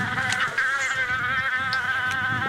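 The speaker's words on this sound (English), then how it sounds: "And I am just surrounded by mosquitoes." A dense swarm of mosquitoes whines close around someone at a desolate remote Arctic site, a steady high-pitched buzz layered with wavering tones that rise and fall as insects pass near.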